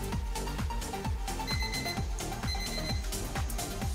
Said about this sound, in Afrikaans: die wekker het gelei